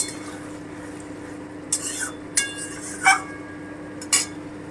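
A pot lid comes off mutton kosha that has been simmering until tender, giving several sharp metallic clinks and clanks spaced over a few seconds above a steady low kitchen hum.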